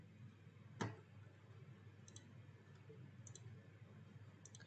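A computer mouse clicks faintly during software work, one sharper click near the start, then a few soft, spaced clicks against a quiet background hum, with no talking.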